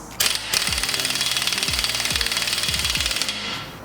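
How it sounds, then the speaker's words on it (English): An impact wrench drives a new lock nut onto a turbocharged 1.8-litre Chevrolet Cruze with a big socket, hammering loudly and continuously for several seconds with a rapid, harsh buzzing rattle close by. "Take our big old socket for our new lock nut."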